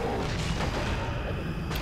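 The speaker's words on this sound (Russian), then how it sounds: "Одного медведя мгновенно просто взрывают" A bear unit blows up in a WarCraft 3 match, heard as a dense, loud burst of explosive rumble and crashing battle noise that fills the whole moment without pause.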